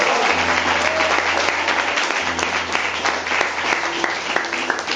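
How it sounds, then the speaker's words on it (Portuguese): A church congregation applauds loudly and continuously, dense clapping close and full, with a low sustained musical tone beneath and a voice briefly audible in the mix. "Aplaude Jesus, que Ele merece."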